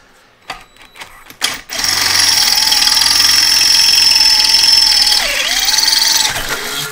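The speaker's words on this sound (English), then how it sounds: "I've got to drill through that plug weld that's sitting in there now" A power drill whines at high speed for several seconds, biting through a plug weld while fitting a roll cage, after a few clicks and knocks; the pitch dips briefly near the end.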